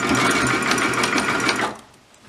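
A sewing machine runs a zigzag stitch on fabric for a Frozen Elsa costume, its rapid even needle clatter loud and close before slowing to a stop.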